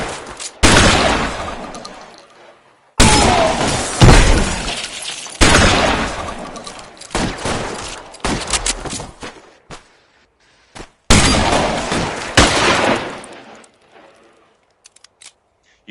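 Loud gunfire in the crime game L.A. Noire comes in several sharp bursts of rapid shots, each cutting off abruptly and separated by brief silences, with scattered lighter shots and clatter in between.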